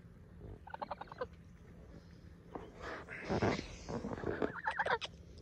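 Geese call in repeated honks and harsh squawks, several birds close by, bursts coming irregularly over a few seconds with some noisy rustling between calls.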